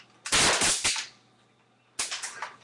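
A laser-controlled airsoft turret fires BBs in two rapid bursts of sharp, snappy shots, close and loud, separated by a short pause.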